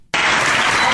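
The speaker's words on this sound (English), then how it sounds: "To much applause," A burst of applause starts abruptly after a brief quiet moment and continues as dense, loud clapping from a large crowd.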